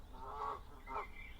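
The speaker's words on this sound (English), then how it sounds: "There's some Canadian geese outside." Canada geese honk outdoors in North London, two drawn-out nasal calls heard at a moderate distance, with no talk over them.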